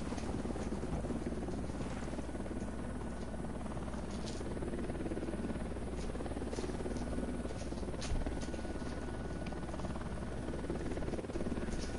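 Helicopter rotor drone in a video game, a steady, loud, continuous thrum filling the scene with no letup, with no one talking over it.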